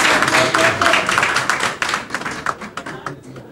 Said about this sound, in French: Alors si vous l'applaudissez autant,